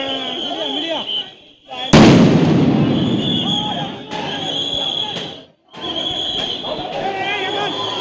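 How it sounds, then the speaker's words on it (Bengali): Police sound grenade bursting at a street protest, one sharp loud blast whose roar decays over a few seconds, then a second fainter crack, over constant crowd noise and a voice talking. "পুলিশ সাউন্ড গ্রেনেড নিক্ষেপ করছে"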